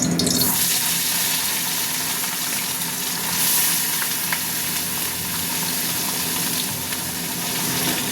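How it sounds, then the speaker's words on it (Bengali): Fish frying in hot oil in a home kitchen pan, a steady broadband sizzle that holds close and loud for the whole stretch with no talking. "এই যে এখানে মাছ দিয়ে দিলাম, মাছ ভাজা হচ্ছে"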